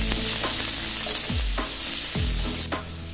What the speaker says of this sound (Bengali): 2-3 মিনিট ভালো করে পেঁয়াজ কাঁচামরিচ আর চিংড়ি মাছ ভেজে নেব